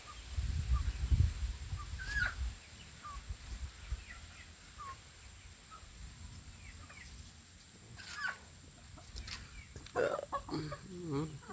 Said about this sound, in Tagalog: Mga Tagalog kong manok guys